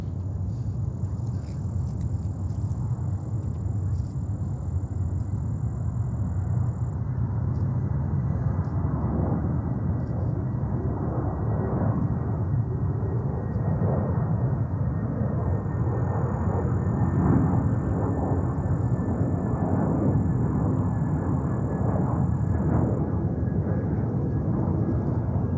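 A jet arriving on runway 31 left at JFK airport gives a continuous, fairly loud broadband roar that holds for the whole stretch, with faint higher whines above it.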